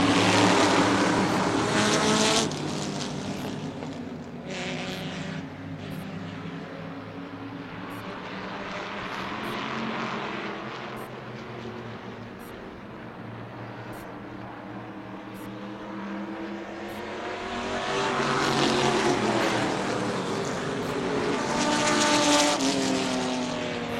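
A 1968 Chevrolet Chevelle stock car racing in a stock car race, loud engine roar rising and falling as cars pass close by, with sweeping Doppler swells of several engines continuing throughout.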